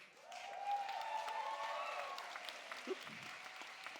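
Audience applause at a school cabaret show in a hall, a sustained wash of clapping from a crowd that holds steady and then thins slightly, with faint voices underneath.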